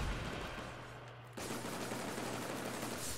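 Gunfire in a Killzone Shadow Fall team deathmatch set in a forest, heard as a dense, sustained wash of shots with a sudden louder burst midway and no talk over it.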